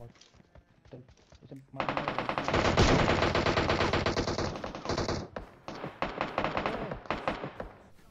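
Sustained automatic gunfire in PUBG Mobile rattles off in a long, dense burst, then breaks into shorter rapid volleys, loud and close, with someone talking around it.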